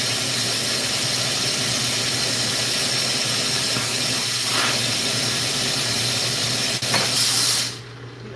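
A glassblowing torch roars with a steady broadband hiss while glass is worked in the flame, continuous and fairly loud, then cuts off near the end.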